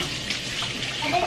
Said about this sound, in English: I'm gonna add about this much water to it and blend it up